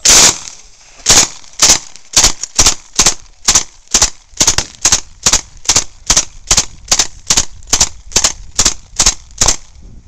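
A Thompson submachine gun fires a long string of loud, sharp shots at a steady, even pace, each crack clearly separated, with no talking.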